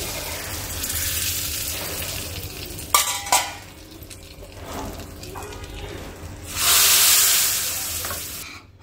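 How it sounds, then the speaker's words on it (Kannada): Bisi bele bath rice is stirred in a pan with ghee and a sizzling tempering, giving a steady crackle, a couple of sharp scrapes and clinks, then a louder burst of sizzle near the end. "ಇದು ಬಿಸಿಬೇಳೆಬಾತ್ ಪೌಡರು, ಸ್ವಲ್ಪ ಒಗ್ಗರಣೆ ಕೂಡ ಹಾಕ್ಕೊಳ್ತಾ ಇದ್ದೀನಿ."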